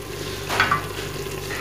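Ground spices (red chili powder, salt and coriander powder) fry in a pan for kadhi pakora: a steady low sizzle with one short scraping stir in the middle, close and fairly quiet, with no voices.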